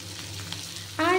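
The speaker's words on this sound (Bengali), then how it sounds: "এরপর নেড়ে চেড়ে একটুকু ভেজে নেব।" Cut potatoes fry in a pan with a soft, close sizzle while being stirred, and a voice begins near the end of the brief moment.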